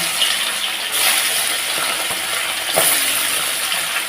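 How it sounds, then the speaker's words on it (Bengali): Bata fish are slipped one at a time into hot oil in a wok, giving a loud continuous hiss and sizzle that swells sharply as each piece goes in. "তেলটা গরম হয়ে গেছে মাছগুলো একটা একটা করে ছেড়ে দিচ্ছি"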